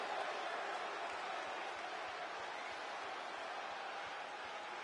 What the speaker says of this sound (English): Coming out to raucous applause.